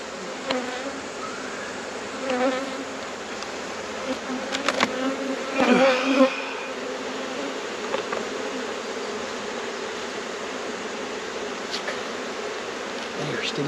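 Honeybees buzzing around a beekeeper during a honey harvest, a steady dense drone close by with louder passes of individual bees and brief rustling and a murmured voice.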